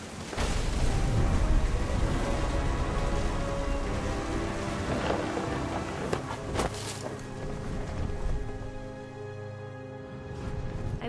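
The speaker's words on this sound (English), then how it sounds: "Thunder sounded much too close and full of angry power." Heavy rain pours steadily through a thunderstorm in the game What Remains of Edith Finch, with low rumbling thunder rolling underneath and a loud crack swelling midway, dense and close throughout.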